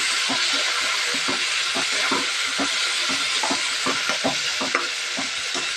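Tomato frying in a hot pan for a lentil chutney, a steady close hiss of sizzling oil with repeated scraping and tapping of a spoon stirring throughout.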